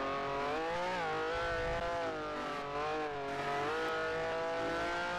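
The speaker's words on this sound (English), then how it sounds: "someone from behind is catching. I can hear his car" The V12 engine of a 1967 Ferrari 312 Formula 1 car drones loudly in the GPL racing video game, its pitch rising and falling through the gear changes while another car closes in from behind.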